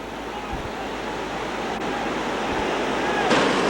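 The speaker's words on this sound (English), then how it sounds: "They hit the corner of it, wash over the top of the wave." River rapids rush in a continuous broadband roar as rafts wash over a wave, with the loud, steady churn of whitewater swelling slightly toward the end.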